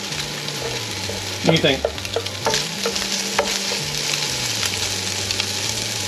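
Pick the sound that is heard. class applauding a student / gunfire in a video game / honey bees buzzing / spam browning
spam browning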